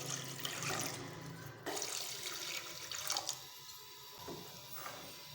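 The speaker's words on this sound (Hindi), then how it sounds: "अब 2 गिलास पानी के ऐड करेंगे।" Water pours into a pan of jaggery to make syrup, a steady splashing gush that changes tone partway through and then trickles, heard alone with no talking.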